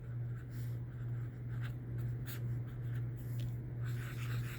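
Pen or pencil scratching out a fraction by hand, soft continuous strokes with faint short scrapes over a steady low hum, close and quiet.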